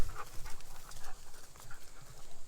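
Dogs in a backyard dog run pant quickly and rhythmically, fairly close and soft, with faint outdoor background and no talk.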